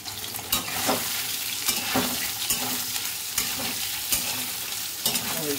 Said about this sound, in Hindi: सो ऑयल गर्म हो चुका है, अब सोयाबीन फ्राई करते हैं।